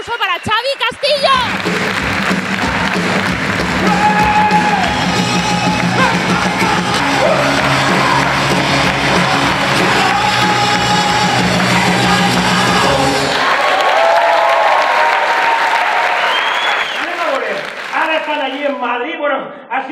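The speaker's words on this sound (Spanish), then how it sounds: "Y ahora, un fuerte aplauso para Xavi Castillo." A theatre audience at a café-theatre closing gala in Valencia bursts into loud applause mixed with cheers and whoops, sustained dense clapping that fades out, followed by a voice starting to talk.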